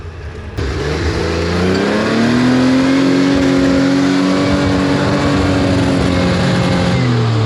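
A Chevy 4.3 engine on an off-road rock-crawling rig revs loudly and steadily up close, its pitch rising and holding in a sustained drone.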